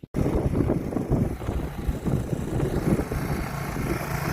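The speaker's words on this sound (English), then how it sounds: "It's a windy day." Outdoor wind buffets the microphone in a heavy, low rumble that starts abruptly and roars unevenly for a few seconds, with no speech.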